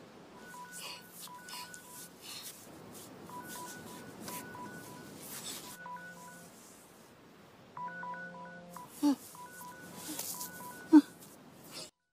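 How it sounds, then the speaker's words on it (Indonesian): Bursts of telephone dialing tones beeping in quick rhythmic groups, fairly quiet, with a few soft clicks and pauses between sequences. "Lalu tiba-tiba ia mendengar suara telepon."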